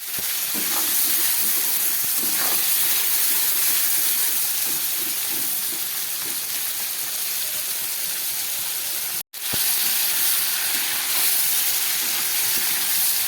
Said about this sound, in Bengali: খুব ভালো করে চিংড়ি মাছগুলোকে আমি ভেজে নিচ্ছি